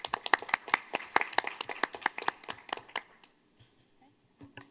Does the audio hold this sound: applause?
yes